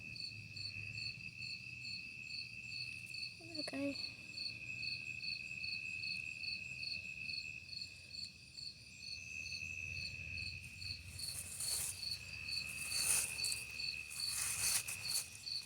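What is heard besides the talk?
big cricket chirping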